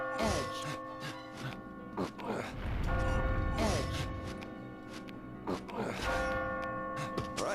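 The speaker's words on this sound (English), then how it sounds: "As you near the top, you will hear a bell ring." A bell rings repeatedly as a player nears the top of a tower in a video game, resonant tolls with long ringing decay over low rumbling game sounds.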